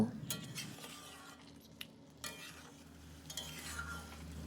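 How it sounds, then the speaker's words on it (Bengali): Ridge gourd and potato being stir-fried with poppy seed and green chili paste, soft sizzling under repeated spatula scrapes and clinks against the pan, fairly quiet and close, no one talking. "সবগুলো উপকরণ দেওয়া হয়ে গেলে 5 মিনিট ধরে ভালোভাবে কষিয়ে নেব"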